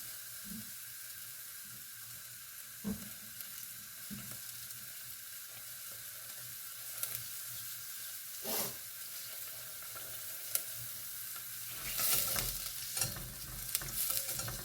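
Onions for a crab and dill risotto sizzle softly in a pan, a steady hiss broken by occasional spoon taps and stirring scrapes and a louder burst near the end, with no voices.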